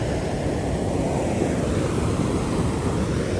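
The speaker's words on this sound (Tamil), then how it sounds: "இந்த பாருங்க வான் பாஞ்சு கொண்டு இருக்குது" Steady, dense rush of water overflowing a tank spillway during Cyclone Ditwah in Sri Lanka, a continuous broadband roar with no breaks, close by and fairly loud.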